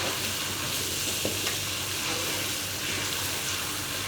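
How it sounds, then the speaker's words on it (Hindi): Masala with tomato paste frying for dhaba-style dal, a loud, dense, continuous sizzle with steady hiss and no talk. "अब हम इस मसाले को 2 मिनट तक भूनेंगे"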